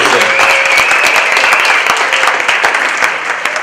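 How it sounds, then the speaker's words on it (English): Audience applause at the SLAM 2016 conference: dense, sustained clapping from a large crowd filling the room, steady and loud throughout before easing slightly at the end. "let's give a round of applause to the SLAM conference"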